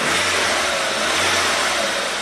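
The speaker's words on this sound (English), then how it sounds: "Revs up nice." A Volkswagen Passat 1.8T engine revs up and holds a raised, steady roar nearby, with no voices.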